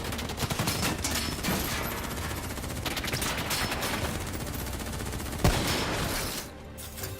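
Gunfire crackles in a Call of Duty Black Ops III cutscene: dense, continuous volleys of automatic shots, one sharp louder bang near the end, then the firing drops away.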